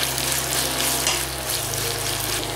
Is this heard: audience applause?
no